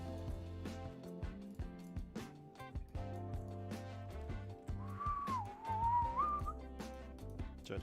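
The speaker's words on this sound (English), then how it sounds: "So it helps that I do some whistling." A person whistles a short wavering tune that rises and falls for a couple of seconds, carried over steady background music.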